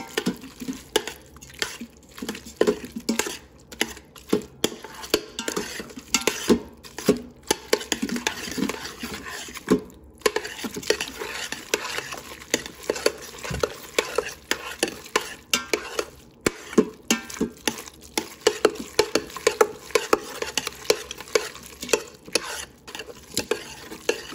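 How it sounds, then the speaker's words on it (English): Kraft boxed macaroni and cheese being stirred in an Instant Pot, a steady, close run of wet, sticky scraping and squelching as the spoon works through the pasta, with no talking. "And now let's mix mac and cheese until everything is blended."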